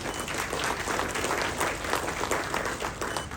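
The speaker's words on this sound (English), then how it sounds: "Can we have a round of applause, please?" A conference crowd at a corporate road safety awards ceremony gives a loud, sustained round of applause, thick continuous clapping that stays at a steady level from start to finish.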